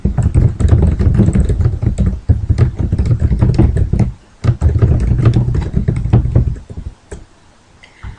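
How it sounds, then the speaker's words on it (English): Keys clatter on a computer keyboard while text is entered in PowerPoint: rapid, close clicks in a steady stream, with a short pause near four seconds, then a burst of typing before it trails off into quiet. "I need to press the Enter key, and at this point I could type in something else"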